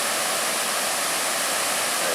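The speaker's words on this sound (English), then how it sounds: "Now this is a very beautiful waterfall." Steady, dense rush of a waterfall over rock ledges in the Porcupine Mountains near Lake Superior, a continuous broadband roar with no voices.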